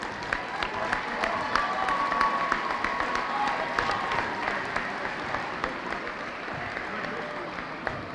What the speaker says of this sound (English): we're going to have a round of applause for our senior class